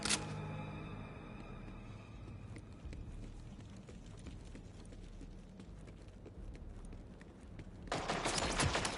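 Rapid bursts of gunfire from a weapon in the shooter game Borderlands 4 crackle continuously over a game soundscape, building to a louder, dense volley near the end.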